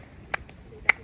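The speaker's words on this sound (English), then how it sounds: "and clap twice." Two sharp hand claps at a Japanese shrine during prayer, spaced about half a second apart, crisp and close, with quiet room tone between them.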